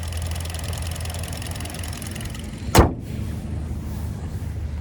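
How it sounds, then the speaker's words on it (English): Four-cylinder engine of a Hyundai Elantra idling with a steady low rumble, close by in the engine bay, broken once by a brief sharp click or knock near the middle. "And there's that 2-liter Smart Stream 4-cylinder."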